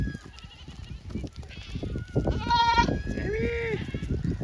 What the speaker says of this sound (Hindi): ये हमारी बकरियों की खूबसूरती ये बस आज चरा कर वापस जल्दी आ चुकी है।